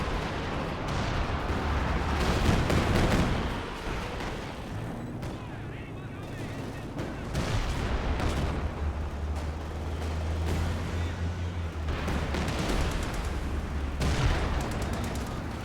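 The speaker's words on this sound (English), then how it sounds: "it gets wiped by the mortar pit, the heavy barrage" A heavy mortar-pit barrage in a World War II strategy game pounds repeatedly, with booming impacts and gunfire bursts rolling under intermittent talk from a commentator.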